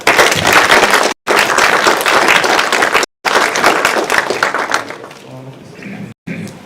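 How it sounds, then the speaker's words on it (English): A loud, dense burst of audience applause at a science awards ceremony fills the clip, with many hands clapping at once before it thins out toward the end. "Give me a clap."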